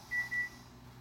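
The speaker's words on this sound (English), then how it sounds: "All right, well, sorry if you heard that beeping." Oven timer gives two short electronic beeps in quick succession, faint and distant in a quiet room.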